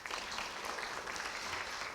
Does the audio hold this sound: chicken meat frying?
no